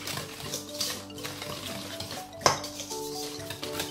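Homemade kebab meat is mixed with powdered spices in a bowl, giving soft squelching and scraping with light clinks of utensil on dish and one sharper knock, close up and without voices.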